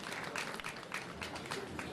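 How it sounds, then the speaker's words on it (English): Audience clapping at a secondary school brain challenge event, a faint, brief burst of scattered hand claps heard from a distance in a large space. "Let us clap them."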